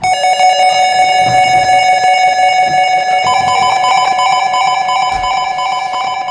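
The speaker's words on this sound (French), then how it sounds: "il y a des sirènes un peu plus classiques qui viennent vraiment de l'héritage reggae." A loud, steady electronic siren tone from a club sound system holds a sustained pitch, then jumps higher partway through, droning continuously like a classic reggae sound-system siren.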